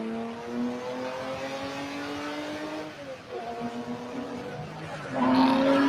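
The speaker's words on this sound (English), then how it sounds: "starting with the Porsche 910" A Porsche 910 race car engine revs hard and climbs in pitch, dips briefly, then rises again into a louder, harsher burst near the end. It is heard alone and fairly close.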